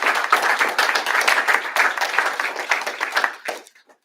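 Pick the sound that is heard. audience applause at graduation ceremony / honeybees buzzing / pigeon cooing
audience applause at graduation ceremony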